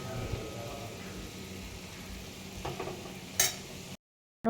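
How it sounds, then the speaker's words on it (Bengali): A cooking dish is stirred in a pan right after mustard oil goes in, giving a soft steady sizzle with light scraping and a short clatter near the end before the sound cuts off. "চলো সর্ষের তেল দিয়ে দিচ্ছি রান্না কমপ্লিট নামিয়ে দিই এটা"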